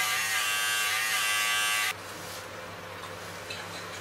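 An electric hair clipper with a 12mm guard cutting along the side hairline buzzes loudly and steadily up close for about two seconds, then cuts off, leaving a quiet room.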